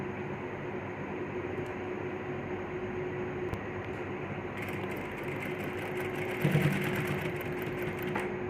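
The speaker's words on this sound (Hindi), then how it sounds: "ये जो हमने सिलाई लगाई हम इसके ऊपर ऊपर ही सिलाई लगाएंगे, ना इससे नीचे ना इससे ऊपर, बिल्कुल इसके ऊपर।" A sewing machine stitches a two-piece collar with a continuous mechanical whirr and close steady needle hum. The machine runs throughout with a slight rise near the end and no voices.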